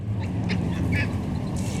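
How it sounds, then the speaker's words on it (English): Ducks on a park pond give a few short, nasal quacks over a dense outdoor background rumble, fairly close, with no clear talking. "she's chasing the ducks"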